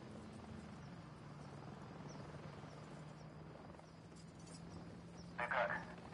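Helicopters in the Modern Warfare 3 video game, a steady low rotor drone running throughout at moderate level beneath battle ambience, with a brief louder burst near the end.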